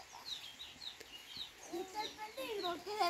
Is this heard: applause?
no